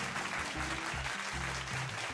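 Audience clapping for a show's opening, a soft, dense patter of many hands heard at a distance throughout, with low tonal sounds underneath.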